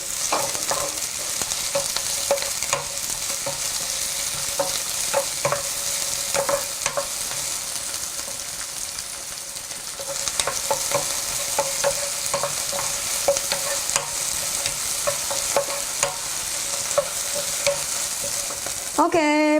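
Chopped green onion fries in hot cooking oil for Korean-style egg fried rice. A loud, continuous sizzle with crackling pops runs for nearly twenty seconds, close up and with no talking.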